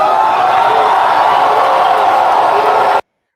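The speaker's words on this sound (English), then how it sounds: "I never expected this kind of crowd" A large crowd at a Peter Obi campaign event in Abuja fills the air with a dense, loud roar of cheering voices that holds steady for about three seconds and then cuts off abruptly.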